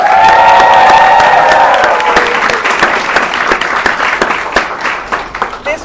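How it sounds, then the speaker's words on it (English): Loud, dense applause and cheering from a large studio audience greeting Kartik Aaryan and Kriti Sanon, with high whoops and shouts fading slightly as clapping continues steadily throughout. "a big round of applause to this wonderful audience."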